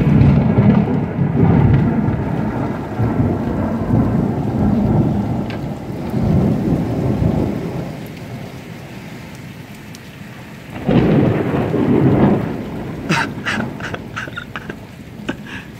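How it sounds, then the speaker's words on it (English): A thunderstorm over Cape Town: steady heavy rain hisses throughout while deep thunder rolls and rumbles in long waves, with a sharper, brighter crack and clatter near the end. "I love thunder and lightning and rainstorms."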